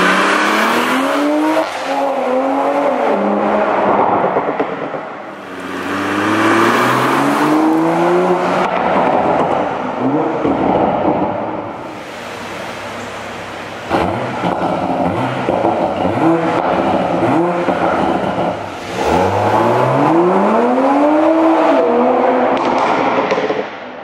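A 2020 Toyota Supra's tires squeal as they break traction inside a tunnel, with the engine rising and falling in repeated loud revving sweeps that echo off the walls, interrupted by brief lulls between pulls.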